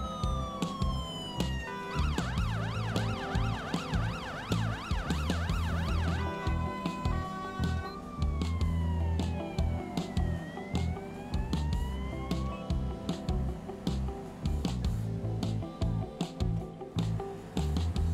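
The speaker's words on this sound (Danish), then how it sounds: "der kommer en hvid kassevogn kørende med blå blink og udrykning" Wailing and yelping siren from a white emergency van with flashing blue lights in GTA V with the LSPDFR mod, switching between fast warbling and slower sweeping patterns, loud and continuous over engine and traffic noise.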